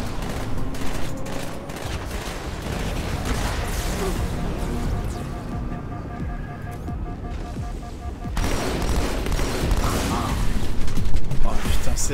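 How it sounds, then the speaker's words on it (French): Assault rifle fire in Halo 2 during legendary co-op play comes as rapid bursts and mechanical clatter, dense and loud throughout, with a short lull in the middle before the shooting picks back up. "Leur fusil d'assaut, c'est n'importe quoi. Tu peux te prendre une rafale, ça t'enlève tout"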